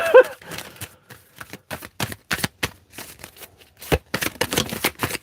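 Tarot cards are shuffled by hand in a rapid series of crisp riffling bursts, close and fairly loud, with brief gaps between them and a faint voice at the start.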